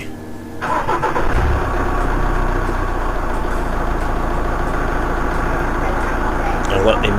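A car engine cranks and catches within a second, then settles into a steady, fairly loud idle that runs on without a break.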